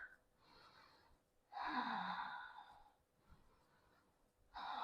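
Slow, audible yoga breaths during a strength pose with lips closed, each long breath a rough, hissing rush of air close to the mic, separated by quiet pauses.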